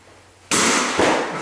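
A single sharp bang on a wall under a deck with water damage, a sudden loud close impact after near quiet, followed by a brief rattling scurry and a second knock.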